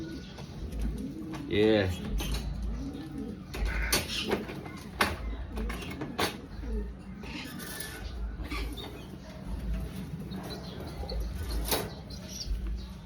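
Racing pigeons cooing and flapping their wings in a loft, with steady soft coos and bursts of wingbeats close by, while a person talks and some background noise continues throughout.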